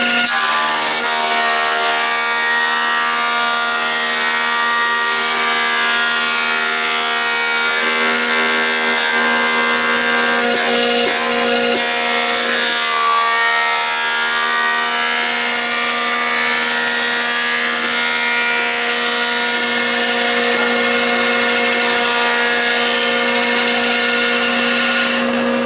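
A thickness planer feeds dried red oak lumber through its cutterhead, giving a loud, steady machine roar with a high whine that runs unbroken for the whole stretch, rising slightly as the board passes.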